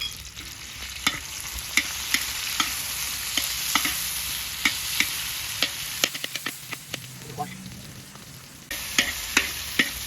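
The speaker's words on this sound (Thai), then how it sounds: "ใส่มะเขือเทศลงไปแล้วนะครับ ตามด้วยนี่ ข้าวมิ้น" Tomatoes and turmeric fry in a hot pan for a Shan-style stir-fried noodle dish, a steady sizzle broken by repeated sharp scrapes and taps of a spatula stirring, with a brief lull before the sizzle returns.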